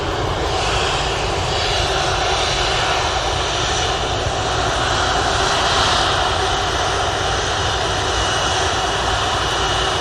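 An Airbus A330 jet at Manchester Airport, its engines producing a loud, steady roar with a constant whine, unbroken for the whole stretch.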